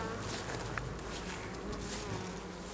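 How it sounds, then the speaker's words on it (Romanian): A steady, dense hum of many honeybees buzzing close by, continuous and unbroken, with no talking. "Albine la diafragmă."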